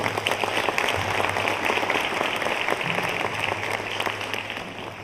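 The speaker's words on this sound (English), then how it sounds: "Just give them a round of applause." Sustained applause from a banquet audience honoring construction-industry sponsors at a student awards dinner, a steady dense wash of clapping at moderate level with a low hum underneath, no speech.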